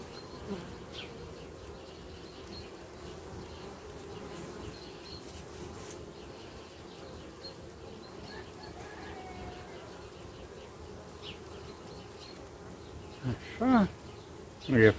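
Honeybees buzz on a hive frame during an inspection, a faint, steady low hum throughout with a few sharper sounds near the end.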